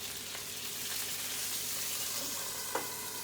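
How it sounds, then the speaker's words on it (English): Water added to a hot pan of burgers sizzles and hisses steadily as steam, a continuous crackling spatter with a small pop near the end; no one speaks. "I'm going to use some steam, so it's a form of water. And I'm going to steam cook these burgers."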